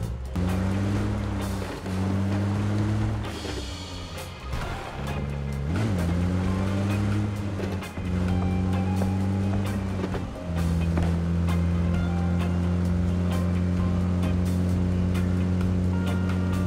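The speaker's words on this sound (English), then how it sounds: "Just keeping the engine running." A vehicle engine idling in the battle-royale video game PUBG, a steady low drone with small dips and swells in pitch, continuous and fairly close throughout.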